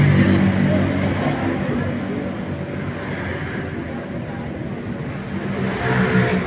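Many Honda Vario 160 motorbikes run together at a roadshow parade. Their engines make a loud, continuous, dense rumble with swells of revving, like close traffic.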